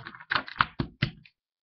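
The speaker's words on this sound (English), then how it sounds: "So you can shuffle them." Playing cards are shuffled in a series of quick crisp riffling taps, about five close bursts over a second, then silence.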